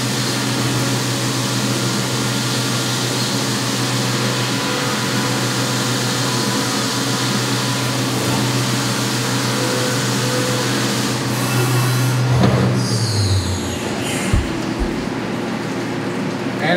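A solid carbide 45 degree chamfering tool machines a ram rod retaining block, a loud steady milling drone with whirring spindle that winds down near the end, followed by quieter shop clatter.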